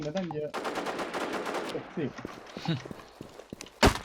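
Rapid automatic gunfire from shooting in the video game NewZ, dense bursts crackling loudly through most of the clip with one sharp shot near the end, under excited talking.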